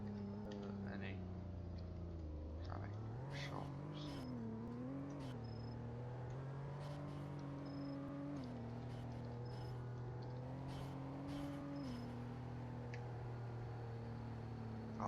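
A truck in the Roblox game Greenville drives along with a low engine drone that rises and falls as it shifts and revs. The sound is faint and continuous, and a voice talks over it throughout.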